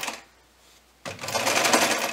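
A sewing machine stitching a mini Christmas stocking starts up after a quiet pause, then runs in a fast, even mechanical whir close by.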